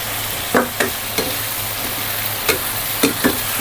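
Beef with holy basil leaves and flowers stir-fried in a wok, a continuous close sizzle punctuated by several sharp scraping knocks of a spatula against the metal at irregular intervals.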